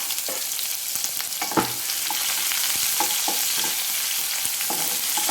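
Thinly sliced shallots sizzle and fry steadily in hot oil with mustard seeds and cumin, a dense continuous crackle with a few soft stirring knocks, close and loud with no talking.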